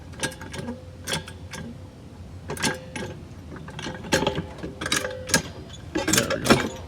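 Scissor car jack being cranked up under the jacking point notches of a 2008-2013 Infiniti G37S coupe, giving a run of clicking, ratcheting mechanical strokes that grow louder toward the end, with no talking.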